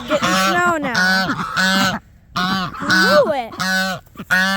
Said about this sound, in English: You be a nice goose.